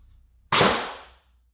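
A modded Worker Swift foam blaster fires once: a single sharp, loud pop with a brief airy burst that fades within about half a second, close by and without talk.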